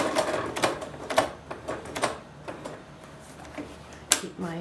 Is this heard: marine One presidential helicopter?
no